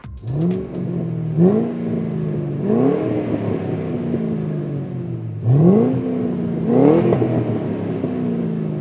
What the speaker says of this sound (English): The Flowmaster American Thunder Axleback is the system that I'm going to name here.